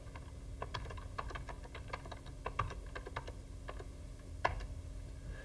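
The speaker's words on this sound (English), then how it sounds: "I'll create a new section by typing Command M" Someone types on a computer keyboard, about a dozen quiet, close key clicks in an uneven rhythm with one sharper tap near the end, over a faint steady hum and no speech.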